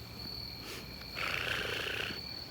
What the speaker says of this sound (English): There's lots of cicadas over here.